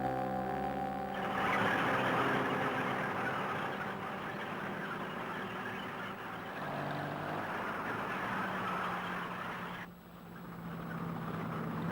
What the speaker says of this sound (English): The panzers are now driving towards Smolensk